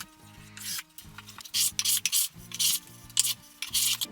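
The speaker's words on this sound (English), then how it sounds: "I'm using my block plane to remove the bulk of the poplar" A hand block plane shaves poplar edge banding in a series of short, raspy strokes, about seven in four seconds, close and fairly quiet, each pass a dry scraping hiss with brief pauses between, no voices.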